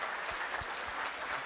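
A crowd at a university chemistry demonstration night applauds a volunteer, a steady, fairly quiet patter of many hands clapping evenly throughout.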